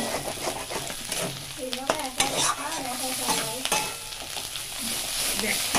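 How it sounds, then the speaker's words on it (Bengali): Food fries and sizzles in a pan while a utensil stirs it in scraping strokes. The dish is a shrimp paste with Malabar spinach leaves. The hiss is steady and close, and no one speaks. "এটাকে ভালো করে ফ্রাই করতে হবে।"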